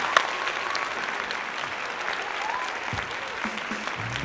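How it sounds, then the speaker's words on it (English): Classroom audience at a woodworking lesson gives a steady round of applause, moderate and even throughout, with a scattered voice or two among the clapping. "Everyone, round of applause for Shramston."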